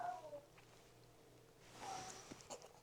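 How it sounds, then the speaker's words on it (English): A house cat meows loudly and insistently indoors, yelling in a couple of drawn-out calls, one at the start and another near the end, with quiet room noise in between and no talk. "I'm sorry if you can hear my cat. He's yelling."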